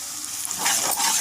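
Spices being stirred into onions frying in a pan while preparing chicken fry: a steady close sizzle with soft scraping stir strokes, alone.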